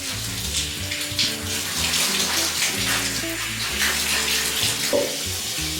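Bath water splashes and bubbles steadily in a baby's bathtub for a 16-month-old, a continuous wet sloshing close by with no talking.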